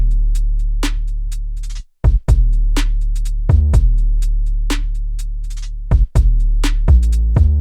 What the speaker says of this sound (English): So let's go ahead and take a look at the drum loop that I made.